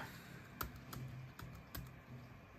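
Keys clatter on a MacBook Air keyboard as a password is entered, a handful of separate, fairly sharp taps spaced unevenly over a quiet room background with no talking.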